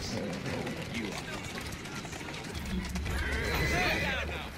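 A horse neighs and whinnies amid clip-clopping hooves in the video game Assassin's Creed Syndicate, with someone talking over it and a steady background hum.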